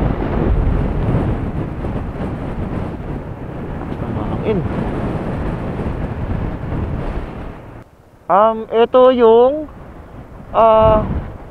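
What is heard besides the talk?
strong wind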